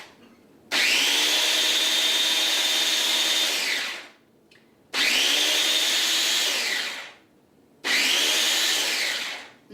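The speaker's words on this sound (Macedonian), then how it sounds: "И ќе го измелам лукчето." Garlic ground in an electric mill or grinder while preparing a Macedonian roasted pepper salad: three loud, steady motor whirs of about three seconds each, with short pauses between them.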